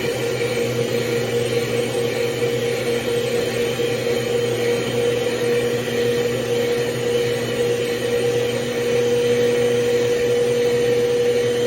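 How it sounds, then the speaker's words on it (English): A kitchen mixer whips sugar and vanilla extract into a fluffy cream, a loud, close motor whir holding steady for the whole stretch with no talk over it. "Now we mix until it's nice and fluffy."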